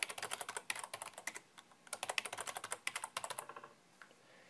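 Someone types a password on a computer keyboard, producing quiet, close clusters of rapid key clicks with short pauses between bursts.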